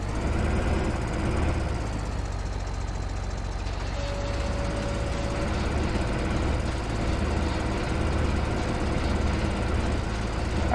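A JCB machine's engine in Farming Simulator 15 on a grass mowing job, a continuous loud mechanical drone that stays unbroken and even for the whole stretch, with no talk.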